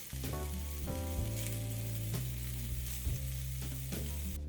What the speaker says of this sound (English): Flip and cook the other side until it's golden and the thighs are cooked through.